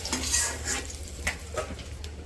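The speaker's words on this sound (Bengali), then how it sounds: "এই পাবনা মাছ ভাজতে গেলে তো তেল ছিটতে" Pabda fish frying in hot, spattering oil in a village kitchen, with a steady crackling sizzle and occasional utensil clinks and stirring scrapes.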